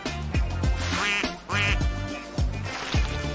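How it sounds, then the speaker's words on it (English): A family of ducks quacks in a quick series of loud, close calls, some overlapping, with short pauses between bursts. "Oh, duckies, a duck family."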